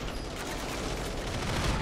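Dense, continuous gunfire in a 1v1 Valkyrie tournament match, a steady barrage of overlapping shots filling the whole brief moment at a fairly low level.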